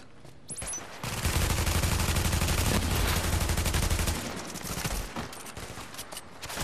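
Sustained rapid gunfire from The Division video game rattles continuously for several seconds, with dense overlapping shots and a few trailing bursts, loud and alone.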